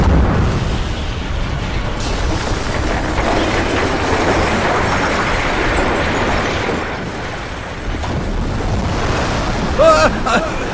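Tsunami floodwater rushing in, from a Chinese disaster movie dubbed into Bengali: a loud, continuous roaring wash of surging water with a windy rumble, holding steady throughout before a brief sharper spike near the end.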